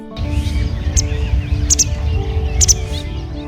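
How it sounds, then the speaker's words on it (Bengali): Brief high bird chirps ring out a few times over a steady low rumble of calm sea surf at Char Hare, a coastal island in Patuakhali, Bangladesh. "শব্দ বলতে যা কানে ভেসে আসে তা হলো সাগরের শান্ত জলের মৃদু গর্জন আর পাখিদের কলকাকলি"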